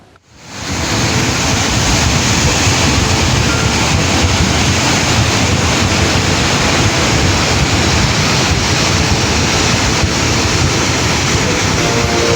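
Cold lava flood from Mount Semeru in Lumajang, East Java, surging down the Regoyo River channel after heavy rain: a loud, steady, broadband roar of rushing water and debris that runs without pause throughout.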